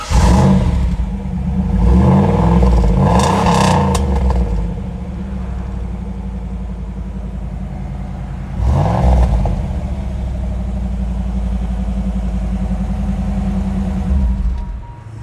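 A 1993 Chevrolet Camaro B4C police interceptor engine runs steadily while it is revved in bursts. One long rise comes early and a shorter one comes later, between stretches of loud idling.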